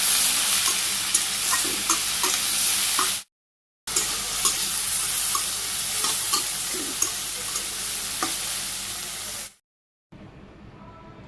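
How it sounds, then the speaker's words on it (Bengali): Water lily stems stir-fry in hot oil with mustard seeds, salt and a splash of water, a loud close sizzle broken by frequent scraping stirs and two short silent gaps. "নেড়ে চেড়ে ভাজি করে নিই।"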